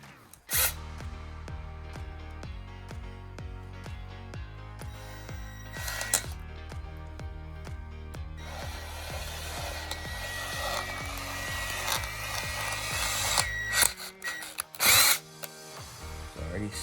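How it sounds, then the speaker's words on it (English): A handheld power drill on its lowest speed setting bores into a turbocharger, giving a steady, close whine with a few brief pauses and clattering knocks near the end. "drill it straight as much as I can because I'm holding it as well"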